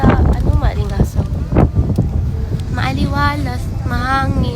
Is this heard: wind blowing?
yes